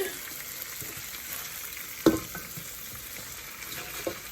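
Chinese cabbage stir-frying with caramelized carrots and onions, a soft steady sizzle with light stirring and one sharp clack of a utensil midway.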